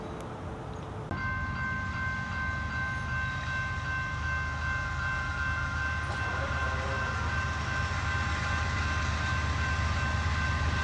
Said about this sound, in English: I love getting these trains coming up the hill.